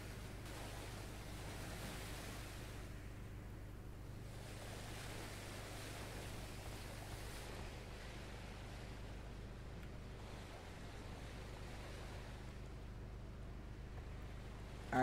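Intense ocean waves in the video game What Lives Below roar as a steady, dense wash of surf and wind, continuous and enveloping for the whole stretch, with no voices.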